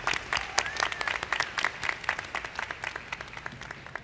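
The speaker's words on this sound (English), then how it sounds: "Please give them a round of applause." An audience at a university commencement ceremony claps steadily for a few seconds, a dense patter of hands that thins slightly toward the end.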